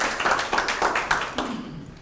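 Short burst of audience clapping at a lecture, a few rhythmic claps in quick succession that thin out and stop within two seconds.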